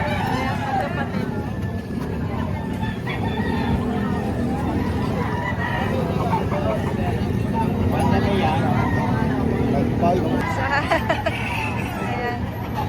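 Roosters crow and chickens cluck among the birds for sale at an outdoor fowl market in Padre Garcia, their calls rising over a constant murmur of crowd babble and nearby talk, with traffic noise behind.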